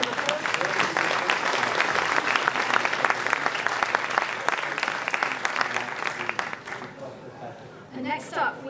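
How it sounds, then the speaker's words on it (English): Sustained audience applause after a conversational AI panel wraps up, dense steady clapping for several seconds before tapering off near the end, with a voice emerging at the close. "A round of applause."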